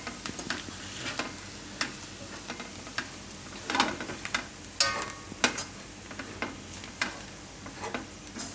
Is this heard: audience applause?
no